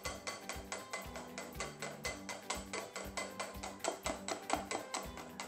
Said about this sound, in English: we're going to do is give that a really good whisk up